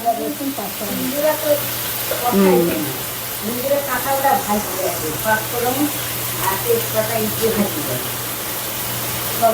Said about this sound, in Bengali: এখন একটু তেলে দিয়েছে আর একবার তেলে দিবে পেঁয়াজ পাঁচটা